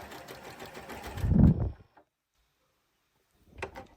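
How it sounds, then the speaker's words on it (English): A Janome Continental M6 sewing and quilting machine stitches fabric in a close, loud whirring burst that lasts under two seconds and swells before stopping. After a silent pause, a second short burst of stitching follows. "I'm just going to let it sew just the way it is right now."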